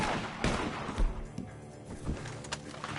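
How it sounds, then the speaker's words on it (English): Several sharp gunshots in Red Dead Redemption 2 go off at irregular intervals, some louder and nearer than others, over a busy game background. "The gunshots are coming from that barn!"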